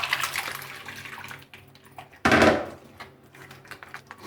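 Soaked tamarind water is poured and pressed through a sieve for a tamarind and plum sharbat, giving a soft trickling splash with a louder burst of liquid midway, close by and with no talk.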